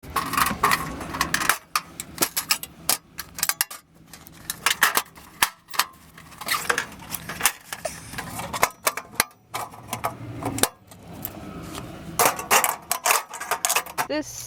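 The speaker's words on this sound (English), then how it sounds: "This is my Coleman 2-burner stove, which I'll open up to show you." A Coleman two-burner camping stove is unlatched and opened inside a van, giving a run of sharp metallic clicks, clanks and rattles at close range, irregular and continuous throughout.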